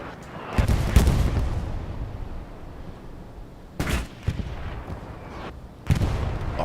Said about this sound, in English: Artillery doing what artillery does in the beginning, making life difficult.